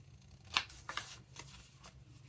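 Scissors snip through paper for a winter junk journal, a few quiet, separate cuts close by over a faint background, with no talking.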